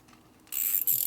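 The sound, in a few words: ratchet with 12-point socket on Harley shovelhead engine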